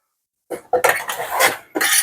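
A spoon picked up from among cutlery in a kitchen, a few quick close metallic clatters and rattles after a moment of silence, with no talking.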